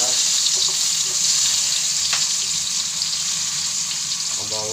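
Chopped onions hit hot oil in a pan for sautéed misua, giving a loud, bright, continuous sizzle with a few faint clinks, steady throughout and without speech.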